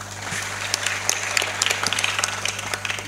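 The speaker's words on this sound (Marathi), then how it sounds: "टाळ्या वाजवा टाळ्या." Audience at a lively kirtan claps steadily with sharp, dense hand claps, loud and continuous over a low constant hum, with no speaking.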